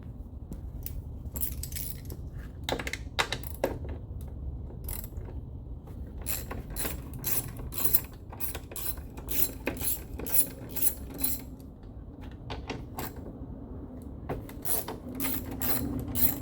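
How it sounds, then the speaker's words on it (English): A ratchet socket wrench loosens a bolt on a 2023 Toyota RAV4 during structural repair work, giving irregular bursts of quick metallic clicks and clatter against a low background hum. "now I'm gonna unscrew this here. So I need a 12 socket."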